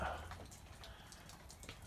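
Light rain falling outdoors over a pasture near a creek, a faint soft patter of scattered drops with a gentle wash beneath, quiet and steady.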